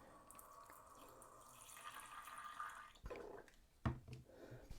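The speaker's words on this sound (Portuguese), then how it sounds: "Adicionamos água." Water poured into a potassium chromate sample during a school electrical conductivity experiment, with a steady trickling and splashing that stops around the third second, followed by a couple of close clinks and knocks.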